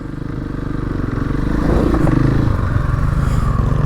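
A dirt bike rides a forest trail toward an old bomber crash site near Loon Lake. Its engine drones steadily and close up with a throbbing pulse, swelling slightly midway, with rattles and clatter over the top.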